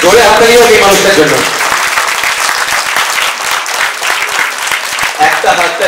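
A hall audience at a Bengali stage play celebration claps for an honoree. Speech is heard over the start, then thick, continuous applause fills the rest, loud and close.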